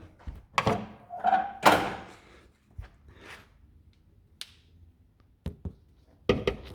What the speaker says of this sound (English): Like I can't close my hood right now, pretty sure. Yeah, let's test it out.